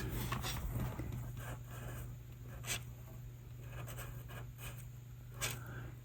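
Pen or marker scratching out a label on the metal chassis of a tube radio being torn down, a series of short, quiet strokes over a low steady hum, with no voices.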